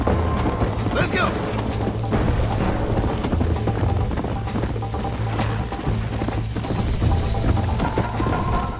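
A horse gallops in the Western video game Red Dead Redemption, its hooves beating in a steady rapid rhythm alongside mechanical clatter throughout, with a player talking over parts of it.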